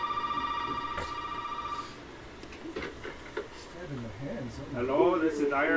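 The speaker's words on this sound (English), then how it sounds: "No, there's a phone call." Telephone ringing in the horror video game Resident Evil VII, a steady electronic ring tone repeating for about two seconds before cutting off, followed by talking voices over low game ambience.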